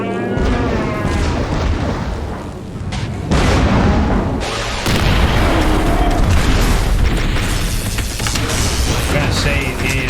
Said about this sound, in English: he also fires a spread that is very hard to dodge. Because it's all fucking rockets.